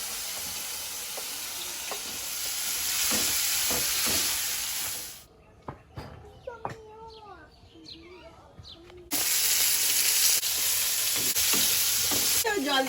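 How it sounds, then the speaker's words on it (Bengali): Prawns dropped into hot oil and a fried spice paste of chilli powder, cumin and tomato, giving a loud steady sizzle with stirring scrapes, broken by a few seconds of quiet near the middle. "এবার চিংড়ি মাছটা দিয়ে দেবো"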